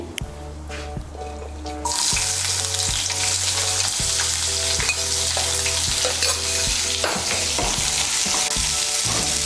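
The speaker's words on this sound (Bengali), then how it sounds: "পেঁয়াজ কুচিটাকে তেলের সঙ্গে মিশিয়ে নেব। মিশিয়ে নিয়ে পেঁয়াজ কুচিটাকে লাল করে ভেজে নেব।" Chopped onion frying in hot oil for a potato curry, a loud, dense, continuous sizzle that surges in after a brief quieter start, with rhythmic scraping of stirring underneath.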